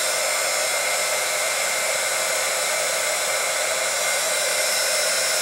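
A heat embossing tool blowing hot air steadily over embossing enamel on a stamped image, a continuous airy hiss and fan whir held high above the paper, no pauses and no voice.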